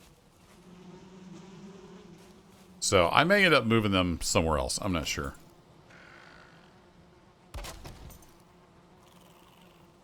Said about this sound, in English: I see bees flying.